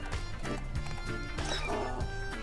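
A donkey-like creature in the Disney Universe video game brays and whinnies in short harsh bursts over busy game music and effects, with a voice talking alongside.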